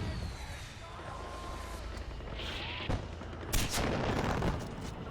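Mortar fire in Far Cry 4, with several muffled booms and distant gunfire bursts spread across a busy battle mix of whooshes and rumbles, at a moderate level.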